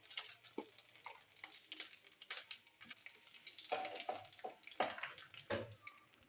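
Bay leaves and panch phoron seeds hitting hot oil in a pan, giving faint, scattered crackles and sizzling pops with soft stirring scrapes in a quiet kitchen.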